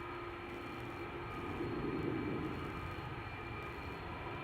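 A Delta Airlines Airbus A330 airliner passes on departure at Amsterdam Schiphol Airport, giving a steady broad jet engine roar at moderate distance that swells slightly midway and holds throughout.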